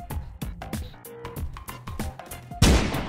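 Rapid gunshots in the Roblox game Brookhaven, a string of sharp loud cracks across the clip that ends in a heavier, denser burst, with no talk over them.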